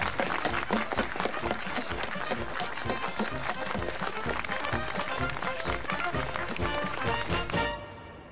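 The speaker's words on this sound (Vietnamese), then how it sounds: "Xin cho một tràng pháo tay nhiệt liệt." An audience at a groundbreaking ceremony bursts into loud, sustained applause, dense clapping from a crowd that carries on for several seconds before tapering off at the end.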